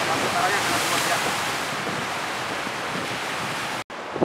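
Surf at Wane beach in Bima washes in as a continuous broad roar mixed with wind buffeting the microphone, then cuts off sharply near the end.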